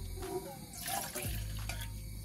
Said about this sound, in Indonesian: Kita masukin airnya.